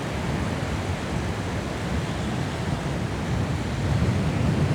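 Sea waves and strong wind on the Estonian coast make a continuous, heavy roar of surf with buffeting gusts battering the microphone, steady and unbroken, with no voices.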